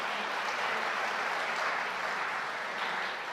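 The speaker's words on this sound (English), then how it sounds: "That is the first spontaneous round of applause for collective doffing I have ever seen." A graduation ceremony audience at Liverpool University breaks into a dense, sustained round of applause, many hands clapping together evenly and loudly throughout.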